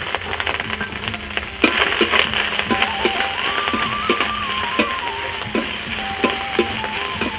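Fried shrimp are stirred in a hot pan with oil and turmeric, sizzling steadily and close, while a utensil scrapes and clanks against the pan again and again, with a faint tonal hum in the background.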